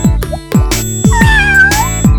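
A kitten gives a high, wavering meow at mid-volume, set among a series of rhythmic cartoon thumps that fall in pitch and are spaced about half a second apart.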